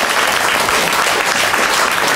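Audience applause, loud steady clapping from a sizeable crowd, sustained without a break and heard alone.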